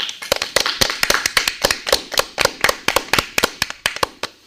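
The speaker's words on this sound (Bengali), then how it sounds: "মৌপ্রিয়া দারুণ বলেছে ওর জন্য একটা জোরে হাততালি হোক" A small group claps loudly for Moupriya, a brisk run of sharp, close hand claps in quick uneven rhythm with no talking.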